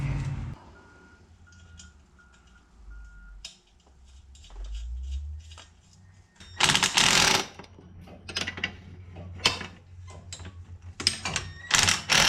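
Nuts are tightened on a Coleman AT125UT engine swap, with a series of short, close ratcheting bursts and metallic clicks between quieter pauses and a low background drone.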